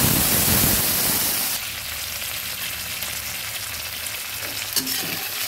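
Ginger paste with a splash of water sizzles in a pan while cooking peas and potato ghugni, a loud hiss at first that settles into a steady, softer crackling fry with a small clink near the end.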